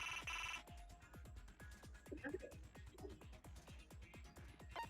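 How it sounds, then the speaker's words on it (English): A harsh phone-like ringing from the video game Danganronpa pulses in a steady rapid rhythm, loud and continuous, with a brief electronic tone at the start. "Like a phone from hell ringing."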